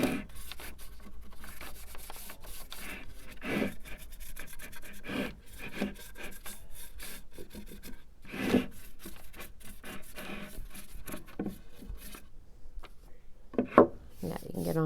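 Hemp oil being rubbed by hand into a wooden beaded tray, including its sides, giving soft repeated rubbing and scuffing sounds at close range with occasional light knocks.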